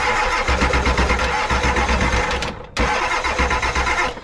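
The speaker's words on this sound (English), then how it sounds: "Cranking like a mother on one battery." A Ford 7.3 IDI diesel engine cranks over on a single battery, with a steady, loud, continuous rhythmic churning of the starter that pauses briefly and then resumes, heard up close with no talk.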